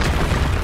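A Confringo fire spell bursting in the game Hogwarts Legacy, a single loud, close, rumbling boom that fills the brief moment.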